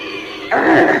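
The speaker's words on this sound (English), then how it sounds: "here comes pigs" Peccaries, wild pigs in a film scene in thick brush, let out a sudden harsh grunting squeal halfway through, loud and close, following quieter rustling background sound.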